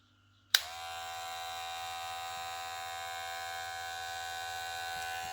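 An Aibeau Weidz LF 0012 cordless hair clipper with a taper blade switches on with a sharp click and then runs at a steady, even buzz, close and alone for several seconds.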